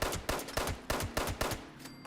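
Rapid gunfire in the video game Fallout 76, a fast run of sharp repeated shots at an even rhythm, loud and close with no talk.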